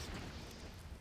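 Explosions in the video game Half-Life 2: a brief, dense, low-heavy rumbling boom that fills the whole second at moderate loudness, without talk.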